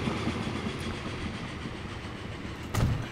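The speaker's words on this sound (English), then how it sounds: "Oh, train's coming." A train rumbles steadily past in the Transport Fever simulation game, a continuous low rolling drone with a brief louder swell near the end, no voices over it.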